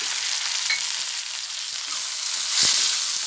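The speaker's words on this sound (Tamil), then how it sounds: "வெங்காயம் வதங்கிட்டு பூண்டும் நல்லா வதங்கிடுச்சு" Onion and garlic sizzle steadily in a hot pan, a close crackling hiss with a brief stir or scrape near the end.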